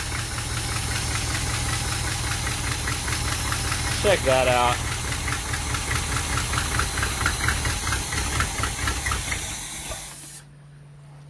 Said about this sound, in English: I can't believe it's idling with so many vacuum leaks. Sounds like a major exhaust leak.